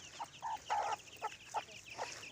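Chickens clucking in short repeated bursts on a farm beside rice paddies and ducks, fairly close, with a faint background hiss and no talking.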